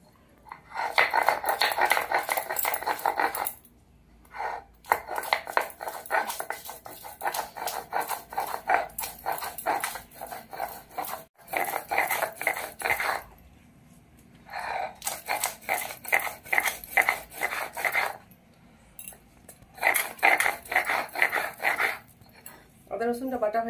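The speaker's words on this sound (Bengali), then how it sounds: "চিকেন কষার জন্য আদা রসুনটা বেটে নেব।" Ginger and garlic are ground into a paste by hand for a chicken kosha curry. Rhythmic, rasping scraping strokes come in close bursts of a few seconds each, separated by short pauses.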